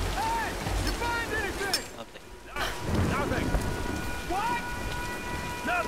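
Thunderstorm with steady rain in Tomb Raider: Definitive Edition, a continuous downpour hiss with rumbling thunder building midway, overlaid with game sound effects and no speech.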